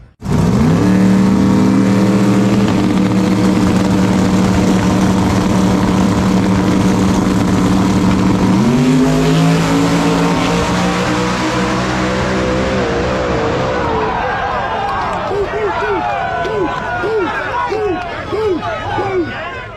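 Small tire drag race cars, including a '57 entry, launch and race down the strip at a 100K event: a loud, sustained engine roar with rising pitch shifts through gears, then fades as cars pass, with crowd and announcer talk underneath.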